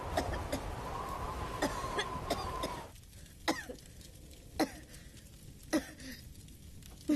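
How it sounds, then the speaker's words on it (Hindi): Repeated dry coughs, several in a row, sound close by, first over a muffled background hum, then spaced out against quieter surroundings. "तुम्हारी खांसी बढ़ती जा रही है।"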